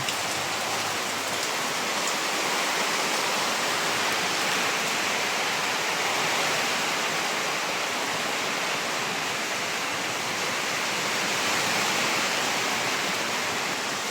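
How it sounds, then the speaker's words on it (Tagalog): Steady heavy rain from a super typhoon pours down in a dense, continuous hiss, with a constant broad wash of noise and no voices throughout. "Lumalakas na yung ulan and hangin."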